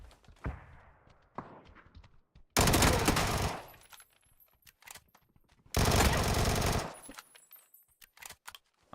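Shotgun fire in a video game comes in two long, loud, dense bursts of blasts, separated by quieter stretches of softer clicks, thuds and handling sounds.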